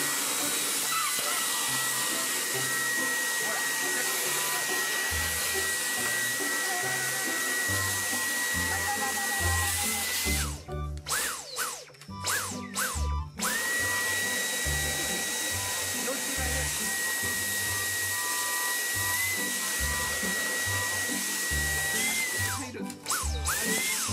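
A Dyson vacuum cleaner sucks up a swarm of flies with a loud, steady high whine that cuts out briefly twice, leaving clattering handling noises, before roaring back on.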